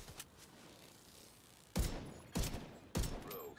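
M1A rifle firing in The Division 2 video game, three sharp, loud single shots spaced roughly half a second apart, each with a short mechanical ring, after a quieter stretch of faint background clatter.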